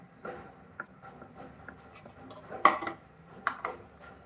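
A hand-pulled manual kitchen chopper works through onion, capsicum and tomato, giving a series of light clattering plastic rattles and taps at an uneven pace, close by and fairly quiet.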